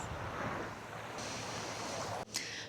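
Cold Baltic sea waves washing onto the beach of Rügen island at Easter, a steady loud rushing surf with wind buffeting the microphone and a brief dropout near the end.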